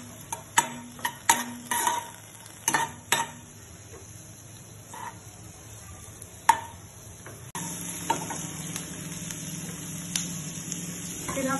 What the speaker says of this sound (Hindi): हम इसे अच्छे से सॉटे करेंगे।